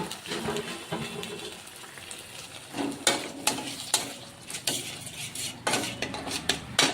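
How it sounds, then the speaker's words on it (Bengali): Spice masala for a potato curry sizzles in a pan while a utensil scrapes and stirs it, the close frying hiss punctuated by repeated louder clinks and scrapes in an irregular rhythm. "মশলাটা আমি কষিয়ে নিচ্ছি।"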